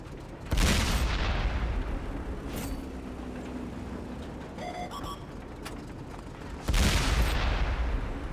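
Two heavy tank cannon blasts in World of Tanks, fired at point-blank range several seconds apart, each a loud booming crack over a steady rumble of engine and battlefield noise.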